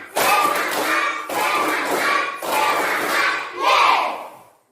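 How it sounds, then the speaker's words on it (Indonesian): A classroom of students doing the tepuk semangat spirit clap, four loud rhythmic bursts of group clapping with shouted chants, each phrase separated by a brief pause, the last ending in a rising cry. "Bisa beri Bapak tepuk semangat?"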